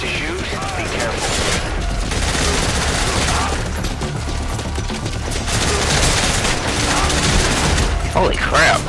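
Dense, continuous gunfire and explosions in Metal Gear Solid V: Ground Zeroes, including shots from a gun with a worn-out suppressor, a loud sustained barrage with booms throughout and no clear pauses.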